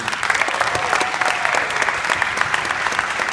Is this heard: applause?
yes